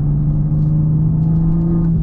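A lowered Toyota Supra on a race track gives off a steady, loud engine drone and rumble that holds constant throughout, close by, with no talk.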